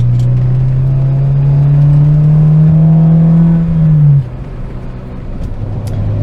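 A car engine hums loudly from inside while driving, holding a steady drone that rises slightly in pitch, then drops off sharply as the revs fall and road noise takes over.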